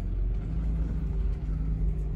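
A car drives off along a road through a campground in a pine forest in Kisatchie National Forest, a steady low engine rumble close by that holds fairly even throughout, with no talk.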